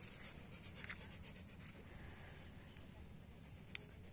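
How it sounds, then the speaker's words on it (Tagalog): A small dog pants faintly and whimpers on a beach on Panglao Island, the sound soft under steady surf-like background noise, with one brief sharp click. "Ito lang muna yung aso ko, yung maliit na aso ko."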